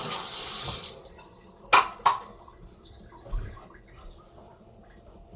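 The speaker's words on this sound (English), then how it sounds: "I like to rinse things right away" A kitchen tap runs water briefly while tools are rinsed after slicing cucumbers for a salad, a loud steady rush for about a second, then a couple of clattering knocks and quiet.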